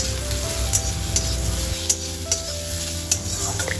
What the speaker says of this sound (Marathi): हे बघा कांदे चांगले भाजून घेणार आहे मी